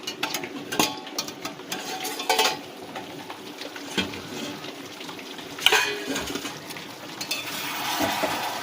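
A lid lifted off a pot of home-style meat curry on a gas stove, with scattered metallic clinks and scrapes over a low sizzle, followed by a steadier frying hiss toward the end.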